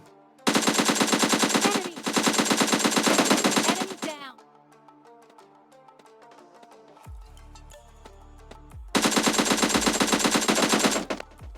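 Automatic rifle and sniper fire from a video game shooter, Beryl and AWM: two long loud bursts of rapid fire, a quieter gap with deep thuds, then another sustained loud burst.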